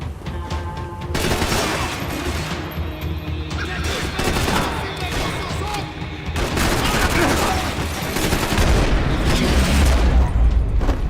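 Rapid bursts of gunfire and booming explosions from the video game Max Payne 3 fill the scene, dense and loud, building into heavier volleys toward the end.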